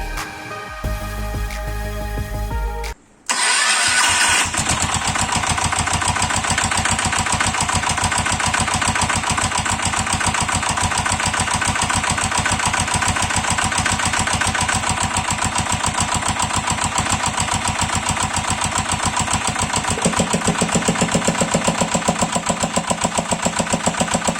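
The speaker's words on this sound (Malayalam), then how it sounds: "നമുക്കൊന്നുകൂടെ സ്റ്റാർട്ട് ചെയ്ത് നോക്കാം, അതിൻ്റെ ശബ്ദത്തിനുള്ള വ്യത്യാസം നോക്കാം" A Bullet motorcycle converted back to a diesel engine, with adjusted valves, cranks briefly, then catches and settles into a loud, steady, rhythmic thumping idle close by that continues for the rest of the stretch.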